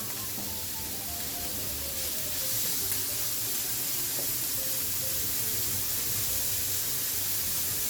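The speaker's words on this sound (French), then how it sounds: "Je vais y mettre les lardons à sec." Bacon lardons frying in a dry pan without added fat, a steady close sizzle and hiss that holds throughout with no talking.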